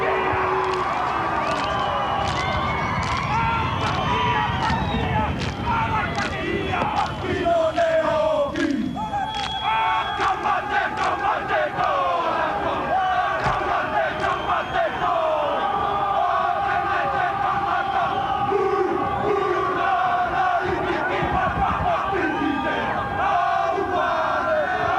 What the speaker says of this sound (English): The haka about to happen.